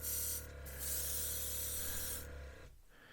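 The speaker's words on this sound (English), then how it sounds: "Well, that's spraying." Steady airbrush spray hissing continuously at close range, powered by a Gaahleri SGT-06 Serenair compressor, cutting off briefly near the end.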